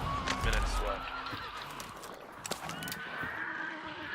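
A horse in a video game gives a whinny early on, fairly faint and mixed with game sounds and a speaking voice.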